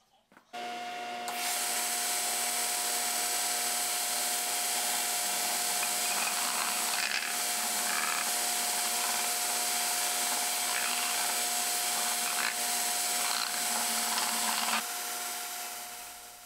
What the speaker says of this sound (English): Now I have to sand the circumference to make it match the clinch rim.